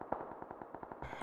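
Rapid automatic gunfire in a multiplayer shooter video game, about a dozen sharp shots in a steady rhythm followed by a louder burst, without talk.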